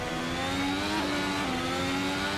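A Ferrari engine in the Assetto Corsa racing game bogs down at low revs, a steady, strained engine drone whose pitch drops and stutters and responds slowly on the throttle, with no voices.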